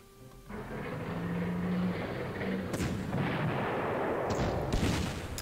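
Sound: anti-tank cannon firing in video game Panzer Corps

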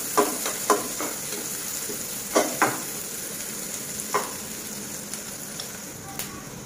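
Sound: chopped onion and minced garlic frying in a pan

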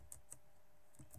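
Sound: typing an email address on a computer keyboard

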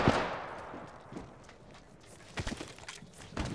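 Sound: Bangalore creeping barrage artillery, Apex Legends video game

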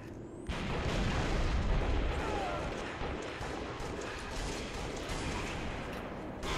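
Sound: bazooka fire and explosions in video game Halo Reach

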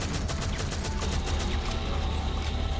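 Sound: gunfire shooting alien legs in video game Shadowgun Legends

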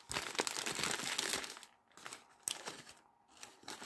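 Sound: paper wrapper of a KFC burger being crinkled and removed

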